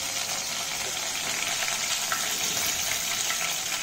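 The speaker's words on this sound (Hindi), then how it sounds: "अब तेल में तेज पत्ता डालना है, लाल मिर्च डालना है, कड़ी पत्ता डालना है," Bay leaf, red chili and curry leaves hit hot oil while making poha, giving a steady, close hiss of frying with fine crackles throughout, no talking.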